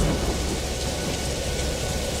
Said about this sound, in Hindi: मूसलाधार बारिश और तेज आंधी।